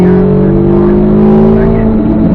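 A Corvette Z06 accelerates on a race track at Spring Mountain, its engine note rising steadily and loudly under smooth throttle with a strong harmonic drone throughout.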